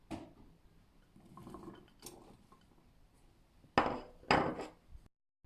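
Carrots tipped into a baking dish for an oven-baked sea bream with saffron rice, landing in two loud, close clattering bursts of pieces hitting the dish after quieter clinking and handling noises.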